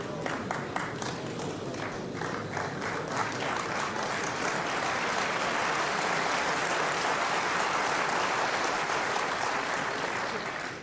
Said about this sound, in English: Terrific round of applause then for Steve